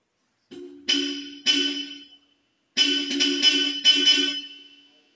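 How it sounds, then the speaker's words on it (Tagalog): A Toyota Wigo G horn, stock then an upgraded Bosch Europa horn, sounds in separate blasts: two short honks, a pause, then a quicker series of louder honks, loud and close with nothing else. "nakinig nyo kung ano ang comparison ng stock at yung upgrade na ng Bosch Europa na busina"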